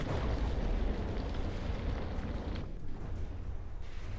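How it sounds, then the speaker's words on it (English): Deep, rumbling torpedo explosions from the Fafnir battleship in the naval combat game From the Depths, a dense continuous roar of blasts that stays loud throughout and eases slightly toward the end. "I just absolutely love to watch the Fafnir firing torpedoes."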